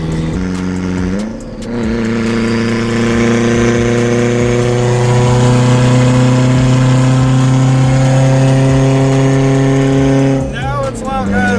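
A car engine idles steadily with a deep, even hum, up close and loud, with a brief blip of revving near the start and end.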